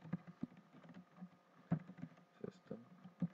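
Fingers type Java code on a computer keyboard, with irregular, crisp key clicks and taps at close range, some louder strikes standing out against a quiet background.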